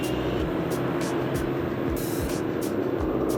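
Simulated engine idle from the speaker on a Super 73 e-bike after the throttle is released: a steady, low, rumbling motor-like drone with faint rhythmic pulses, continuous and close.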